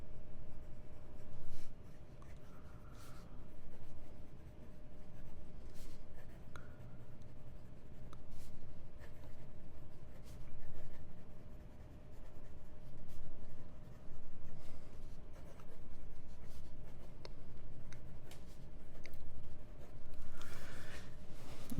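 A Stipula Etruria fountain pen with a medium nib writes quickly across paper with Colorverse ink, giving a steady, close scratching with soft, uneven strokes and no talk.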